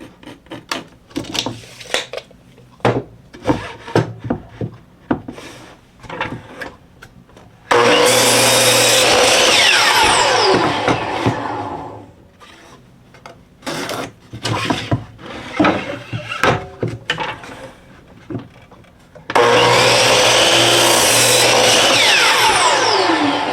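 Power saw cutting wooden boards to length for a picnic caddy, two loud sustained cutting bursts with whining rasp, separated by shorter clattering knocks and handling noises of the boards.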